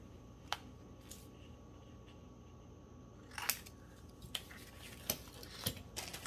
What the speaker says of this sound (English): So now I'm gonna cut it into tag shapes.